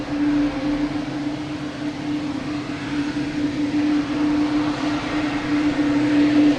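A Lufthansa airliner passes at Boston Logan Airport, a continuous loud jet roar with a steady engine hum, swelling slightly toward the end.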